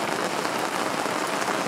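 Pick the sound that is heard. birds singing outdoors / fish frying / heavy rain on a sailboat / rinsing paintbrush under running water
heavy rain on a sailboat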